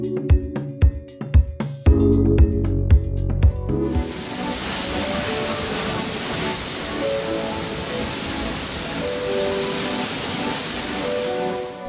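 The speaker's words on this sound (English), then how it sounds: "A huge bowl spins at a speed of 10 miles per hour and generates waves that imitate the ones you'd find in the ocean." Spinning bowl wave machine generating ocean-like waves, a broad steady rushing wash like surf, following a few seconds of rhythmic music at the start.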